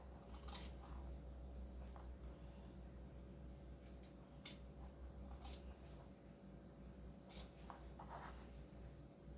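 Scissors snip fabric while trimming a sewn pumpkin hotpad, a handful of quiet, crisp cuts spaced over a faint steady room hum.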